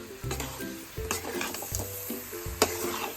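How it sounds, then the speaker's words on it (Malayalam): A spoon works through lime pickle after vinegar goes into the pan, giving repeated scraping strokes and clinks against the metal over a low sizzle, with one sharp knock partway through. "വിനാഗിരി വെച്ചതിന് ശേഷം നന്നായിട്ട് ഇളക്കി കൊടുക്കണം."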